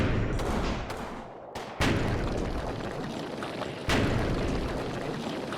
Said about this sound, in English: the next wave of grenades and Panzerfausts starting to explode onto the next wall.